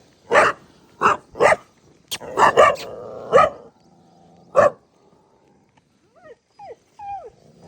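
Dogs bark in sharp separate bursts nearby in the Patnadevi forest, several quick barks in a row, then a pause and a few soft whimpers.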